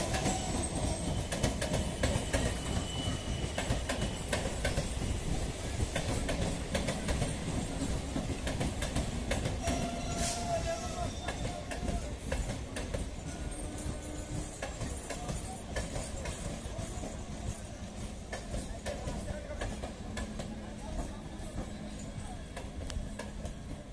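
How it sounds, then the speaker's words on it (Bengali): The 31621 Up Sealdah–Ranaghat local train runs past near Kalyani station: a continuous loud rumble of carriages with rhythmic wheel clatter and occasional squeals, close by throughout. "31621 up Sealdah Ranaghat local Kalyani rail স্টেশনের দিকে যাচ্ছে।"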